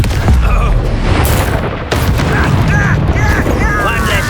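A fire spell erupts in Hogwarts Legacy, a loud booming whoosh with crackling, roaring flames and sharp impacts, mixed with game effects and brief voices in the background.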